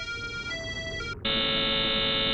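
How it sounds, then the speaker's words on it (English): In the Chaos;Head Noah video game, a thin electronic melody plays from a phone speaker, then a loud, harsh, sustained buzzer suddenly cuts in and drones on at full volume. "an extremely loud noise that sounded like a buzzer exploded from the speakers"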